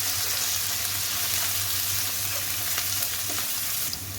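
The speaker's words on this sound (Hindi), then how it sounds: "अब इसमें मैं गार्लिक ऐड कर दूँगी और इसको भी मैं इसमें भून लूँगी।" Garlic frying with translucent onions in a pan, ahead of minced meat and cabbage, makes a loud, close, continuous sizzle that stays even throughout, with no one speaking.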